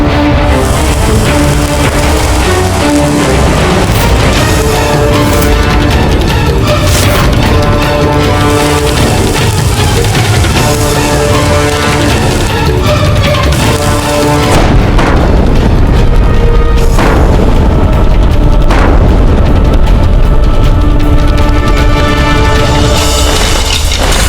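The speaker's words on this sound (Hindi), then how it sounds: "चलाओ तोप।" A period battle scene with a cannon fired toward an enemy army: loud, continuous booming and crashing with repeated heavy impacts over dense dramatic music, with no voices.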